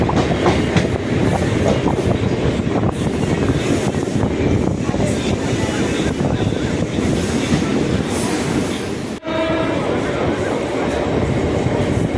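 A train departing a station rumbles and clatters steadily from inside, with rhythmic wheel clicks and a brief jolt near the end.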